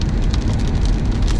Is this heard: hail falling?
yes